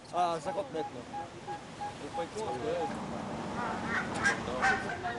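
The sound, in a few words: geese honking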